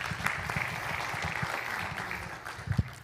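Audience applause at a church sermon, a steady wash of clapping held at moderate level for about three seconds with no voices over it.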